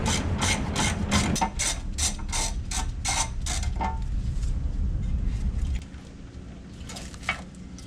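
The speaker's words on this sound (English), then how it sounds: "the tray has two bolts going through it. Loosen those up, remove them" A ratchet clicks rapidly while loosening battery tray bolts in a car engine bay, a close, steady run of sharp pawl ticks that stops after several seconds, leaving a quieter background with a single faint knock.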